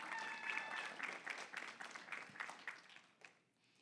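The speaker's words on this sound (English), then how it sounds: "applause for our chapters" Audience applause at a youth voting summit, a full crowd clapping steadily with a few cheers and whoops, fading out toward the end.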